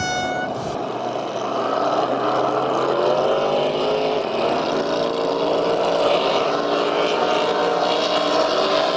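Crackerbox racing boats roar off from the start of a race, a loud sustained engine drone that swells after the first second and holds steady throughout.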